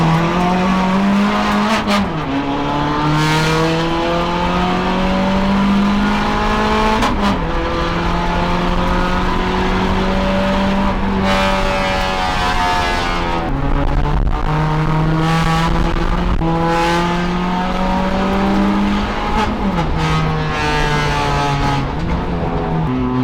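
An HPD Honda Civic Si factory race car driven hard, its engine repeatedly revving up through the gears with sharp shift breaks, loud and close from inside the car, with brief tire squeal and no talk.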